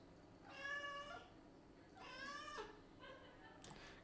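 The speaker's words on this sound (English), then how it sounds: "you guys might hear my hungry kitty in the background" A hungry house cat meows three times in the background. The drawn-out cries come fairly faint and spaced about a second apart.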